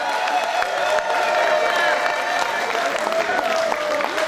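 Wedding guests at the evening dinner party applaud the couple, a steady wash of clapping and crowd noise at a moderate distance with some cheering mixed in.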